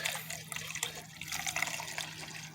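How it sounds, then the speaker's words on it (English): Distilled water pours into a 1 gallon container for a 50-50 antifreeze mix, a steady close trickling splash with small gurgles and bubbling throughout, no voices. "There goes the distilled, just filling up."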